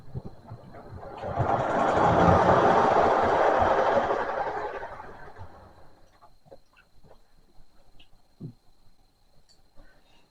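Model railway train running past, a broad rushing rumble that swells and fades over several seconds, followed by faint clicks and small knocks.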